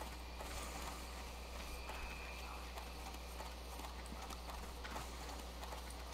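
Horse hooves clip-clop steadily in World of Warcraft Classic, a continuous game sound bed under constant background hum, with no speech.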